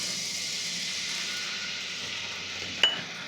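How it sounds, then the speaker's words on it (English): Dry white wine hits a hot skillet after pork steaks have cooked, giving a steady hiss and sizzle that fades slightly, with one brief metallic clink near the end. "we're going to add our wine, about half a cup of dry white wine."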